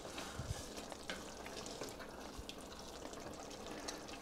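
Beef consomme poured into a hot pan of American chop suey, a steady broadband sizzle and bubbling that holds throughout, with a few soft stirring knocks near the start.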